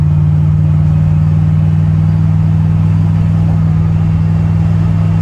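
A 1968 Ford Thunderbird cruising on a highway at night, a steady low engine hum and road drone filling the cabin without a break.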